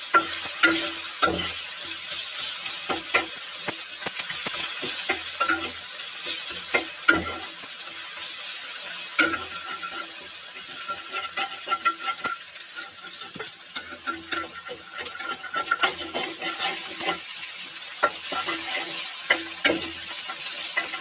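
Egg and tomato fry in a pan for red pasta, a steady sizzle running under repeated scraping stirs of a utensil, close and continuous with no talking.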